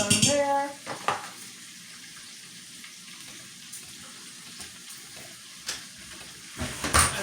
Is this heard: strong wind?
no